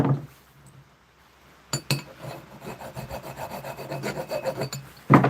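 A flat file cuts a slot in a metal e-bike hub with close, repeated scraping strokes in a steady back-and-forth rhythm, after a quiet start and a couple of sharp clinks.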